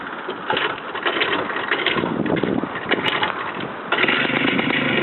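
A Minsk motorcycle engine being kick-started and catching, running loud and rough close by with a buzzing two-stroke rattle that swells after a few seconds.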